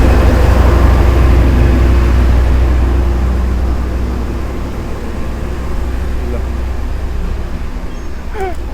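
Steady low rumble of a power generator heard from inside the restaurant car of the Bengawan economy train, a constant drone throughout with voices and carriage noise over it.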